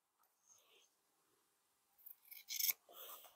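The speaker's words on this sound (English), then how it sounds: "We're going to trim our corners" Scissors snipping the corners of a sewn fabric storage caddy, with faint scattered cuts early on, then a cluster of louder close crisp snips near the end, heard alone without talk.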